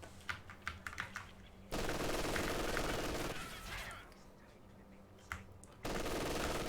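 An MG42 machine gun firing in a video game, two long sustained bursts of rapid fire, loud and close, with lighter clicks and quieter shots between them.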